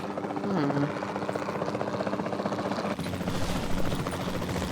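A helicopter's rotor in Jurassic World Evolution 2 thrums steadily and continuously, a dense pulsing drone holding at an even loudness throughout.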